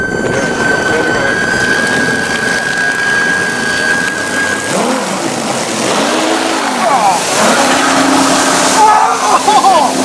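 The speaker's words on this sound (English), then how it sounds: "Electric boat's on the power." An electric boat runs under power, a steady whirring drive with water rushing and splashing against the hull. The sound is close and loud.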